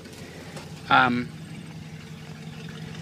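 A 1975 International Harvester 3/4-ton step-side pickup with a new exhaust idles steadily at low volume, a constant rumble under a brief spoken word.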